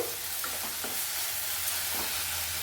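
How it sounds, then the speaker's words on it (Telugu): Tomatoes frying in a pan for a pachadi, giving a steady broadband sizzle throughout with faint stirring scrapes now and then, no talk. "వేగనిద్దాం కొంచెంసేపు, బాగా టమాటాన్ని మగ్గనిద్దాము."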